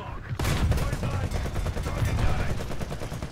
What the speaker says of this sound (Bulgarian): И ето с картечница успяваме да го повредим